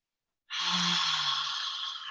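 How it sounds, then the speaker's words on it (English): A single long, audible breath pushed out through the mouth during a yoga breathing exercise, a close, breathy whoosh that starts abruptly after silence and holds steady for over a second. "Inhale through the nose and an audible exhale."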